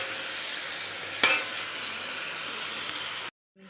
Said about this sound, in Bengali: টমেটো দিয়ে এখন কষাচ্ছি এটা, তারপরে মশলাটা দেবো